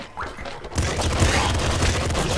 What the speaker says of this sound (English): Those things explode.